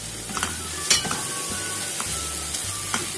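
Keema fries in a pan with cumin, black pepper, spices, ginger, garlic, tomato and green chilli, giving a soft steady sizzle broken by a few scraping stirs of a spoon and faint clinks against the pan.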